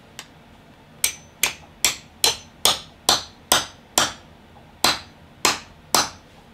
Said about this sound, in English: we're just gonna hammer it right down in there